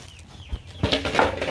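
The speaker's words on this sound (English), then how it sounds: "And I gotta feed the big chickens." Backyard chickens cluck and scratch close by at feeding time on a snowy day, quiet at first and then a burst of busy, overlapping clucks and rustling.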